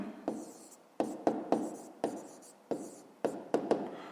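A pen scratches out short written strokes on paper while working a 5th-grade math exercise, a series of close, distinct bursts with brief pauses between.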